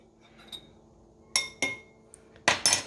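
Six egg whites tipped into the metal bowl of a Compact Cook Platinum kitchen robot, giving a few sharp clinks and knocks in quick clusters, close and fairly loud, with no one talking.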